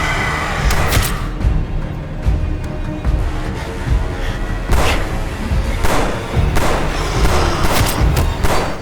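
Gunfire in a dubbed horror movie set on an island: a loud, chaotic run of sharp shots and heavy booming thuds, repeated bursts rising over a rumbling action soundtrack.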